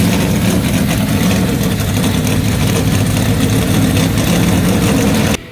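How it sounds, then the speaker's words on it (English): Stock cars from the NASCAR Cup Series playoffs rumble loudly and steadily, heavy engines idling and revving together as a dense, continuous roar that cuts off abruptly at the end. "Let's fire up those engines."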